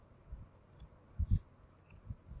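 Quiet computer mouse clicks, a few sharp isolated taps spread across a short stretch, heard close up against a near-silent room while navigating a website backend.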